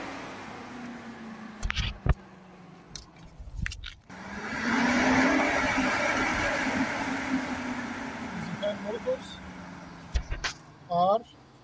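Ford Edge radiator cooling fan DC motor spinning up with a steady whirring hum for several seconds, surrounded by clicks, knocks and bursts of speech before and after.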